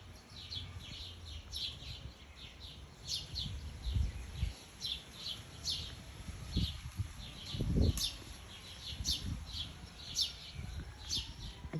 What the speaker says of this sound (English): I guess it's a sparrow.